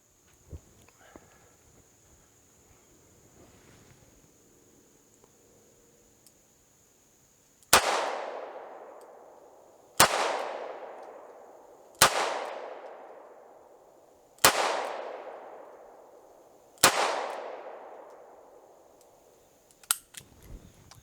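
Five sharp gunshots from a Ruger LCR revolver fired double action with 130 grain Federal full metal jacket rounds, spaced about two seconds apart, each a loud crack with a ringing decay, after a stretch of quiet room noise.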